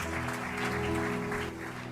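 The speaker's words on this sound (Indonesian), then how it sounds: "Kita berikan tepuk tangan buat Tuhan." Congregation clapping during an online church service, a steady wash of applause layered over sustained instrumental music.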